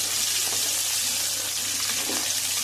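Onions frying in oil with chana dal, mustard seeds and cumin, a steady, loud, hissing sizzle with no talk.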